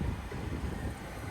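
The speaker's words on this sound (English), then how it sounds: "This gust is crazy, it does not stop." Strong, sustained wind gusts buffet the microphone beside a 2025 Toyota Sienna XLE AWD minivan, a loud continuous low roar and rumble without pause.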